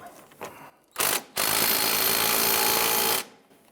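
A power tool buzzes loudly and close while tightening the tie rod adjusting sleeve clamp on a 1999-2004 Jeep Grand Cherokee, with a short burst followed by a sustained run of almost two seconds before it stops.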